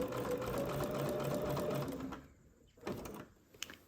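A sewing machine runs steadily for about two seconds, stitching a rolled hem in delicate fabric with a hemmer foot, then stops, leaving only a few faint handling clicks and rustles.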